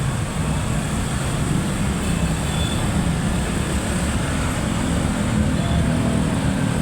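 Road traffic noise while travelling through barangay Banay-Banay: a dense, continuous rumble and roar of passing vehicles, loud and unbroken throughout.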